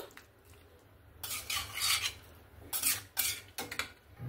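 Jackfruit and prawn curry being stirred in a pan, giving a few scraping, rubbing bursts of utensil against metal that come and go, close and fairly quiet, with no voices.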